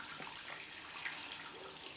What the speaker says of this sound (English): So let's fill this bowl up with hot water.